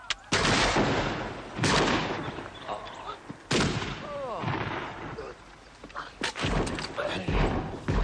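Several sharp gunshots ring out in a 1973 frontier drama, spaced irregularly with echoing tails, and voices and shouting are heard between the shots.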